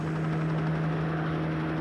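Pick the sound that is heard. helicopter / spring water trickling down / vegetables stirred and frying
helicopter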